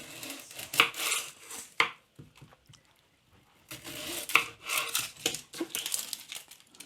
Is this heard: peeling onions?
yes